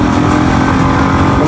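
A motorcycle speeds through turns on a hill highway near Patnitop, its engine roaring loud and close amid heavy rushing wind noise for the whole moment.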